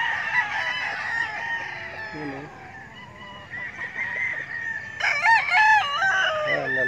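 Roosters at a game farm crow repeatedly, loud and close, several birds overlapping with honking, clucking calls, while someone talks briefly.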